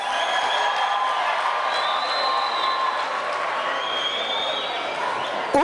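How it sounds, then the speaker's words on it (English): A large crowd at a World TB Day commemoration rally applauds, with cheering and high wavering calls or whistles rising above the steady clapping throughout. "Round of applause"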